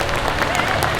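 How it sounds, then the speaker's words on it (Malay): Audience applause for the people of Tualang Sekar at a food security briefing session in Perak, a steady dense wash of clapping filling the whole second, with a faint voice mixed in. "Kita bagi tepukan pada orang Tualang Sekar."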